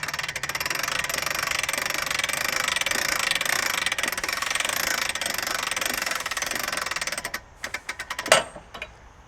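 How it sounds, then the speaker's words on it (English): An Allrounder jacking arm cranked clockwise, a continuous mechanical grinding rattle that stops near the end, followed by a few sharp clicks and clunks as it locks in place. "So now we can take this arm and we'll crank it up clockwise."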